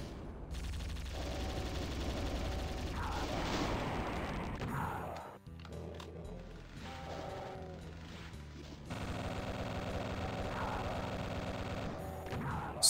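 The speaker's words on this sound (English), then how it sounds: "Shoot a bunch of bullets and pull out the super shotgun for a finisher" Gunfire and super shotgun blasts in Doom 2, dense rapid shots and crashing impacts layered over loud game music, with a short lull midway before the barrage resumes.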